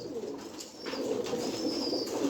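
Pigeons coo softly on a pigeon farm, a low murmuring call that continues through the moment with faint bird chirps, fairly close and without talking.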